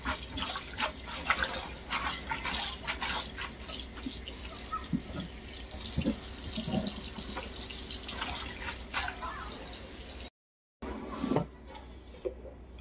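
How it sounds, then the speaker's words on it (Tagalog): Tap water running over kangkong (water spinach) in a sink, a continuous splashing stream with drips and handling clatter, briefly cutting out near the end. "Linisan natin mabuti, lalo na pag kangkong madumi."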